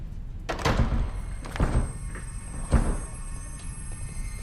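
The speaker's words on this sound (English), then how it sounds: "you broke the door." Door being broken in a horror film trailer set in Cabrini Green: three heavy, loud thuds land at uneven intervals against a low rumbling background, each hit followed by a short decaying crack.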